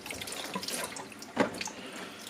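Water from shut-off heating system pipes runs into a container, a soft, steady trickle with scattered drips and one sharper splash midway.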